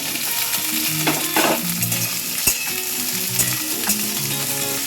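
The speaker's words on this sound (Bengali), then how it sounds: "ভাজা হয়ে গেছে এবার আমি সব বেগুনগুলো দিয়ে দেবো" Eggplant frying in oil and stirred in a pan, a strong steady sizzle close by with intermittent scraping and knocking spatula strokes.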